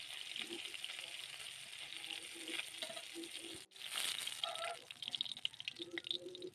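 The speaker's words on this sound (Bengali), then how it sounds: "তো মাছগুলো কিন্তু এখন ভাজা হয়ে গেছে" Fish fry in hot oil in a pan, giving a steady close-up sizzle and crackle, broken by a brief pause and then the clatter and scrape of pieces being stirred and lifted out.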